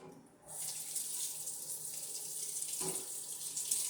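Hot tap water starts running after a brief quiet moment, then pours steadily into a sink to rinse a hydrometer with Star San, with a bright splashing hiss and a small clatter near the end.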